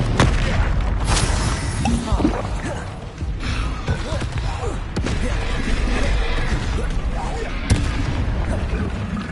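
Confringo fire-spell blasts in the video game Hogwarts Legacy: loud, dense booms and crashes rolling one after another throughout, with a voice calling out over the battle noise.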